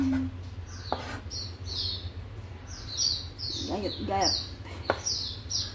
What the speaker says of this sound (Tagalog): ang ibon ng aking amo ay maiingay